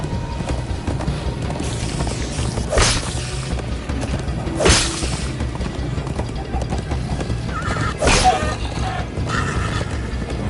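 Rhythmic hoofbeats of a galloping horse in Minecraft Story Mode, with a couple of whooshing swells and a brief whinny over steady game ambience.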